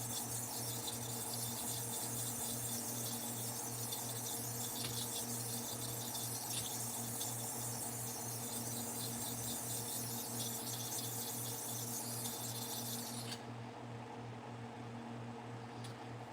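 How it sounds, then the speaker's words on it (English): Clipper blade drawn steadily across a diamond sharpening plate, a continuous close rubbing and grinding hiss over a steady mechanical hum, running unbroken for the whole stretch before the high scraping drops away near the end. "So I use a diamond plate to sharpen these."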